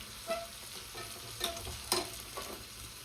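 Green chili and garlic sizzle in hot ghee for a tempering, a soft steady crackle with a few sharper pops and stirring scrapes, close by.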